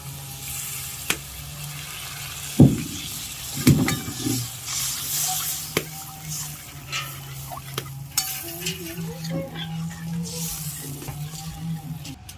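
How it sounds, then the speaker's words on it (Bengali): Coconut milk and mustard-paste water poured into a pan of spiced masala frying for a hilsa curry, giving a steady close sizzle with a couple of splashy bursts and light stirring throughout. "এবার নারকেলের দুধ আর সর্ষে বাটার জলটা দিয়ে দিচ্ছি।"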